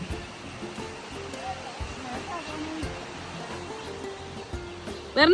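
Steady rushing water from a river at Chekadi fills the background, with faint voices murmuring underneath and a brief louder burst at the end.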